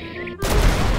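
A sudden heavy missile explosion in a GTA 5 mod bursts in after a quieter tonal lead-in, loud, broadband and rumbling to the end, with no talk.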